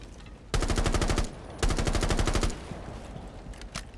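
Two loud, close bursts of rapid automatic rifle fire in Rainbow Six Siege, shooting through a door, each lasting under a second, followed by quieter game ambience and a faint clatter; no talking.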